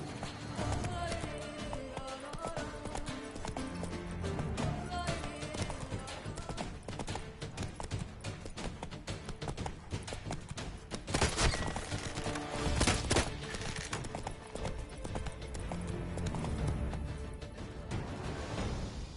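Horse hooves galloping in The Witcher video game, a steady rapid clip-clop that runs continuously under game music and effects, with a few heavier thumps midway.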